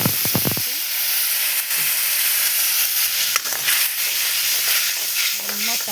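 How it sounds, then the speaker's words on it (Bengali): Spice paste and chili fry in a pan for Bengali fish curry with a steady, close hissing sizzle, opening with a brief clatter and a few soft knocks against the pan. "মরিচটা কষানো হচ্ছে"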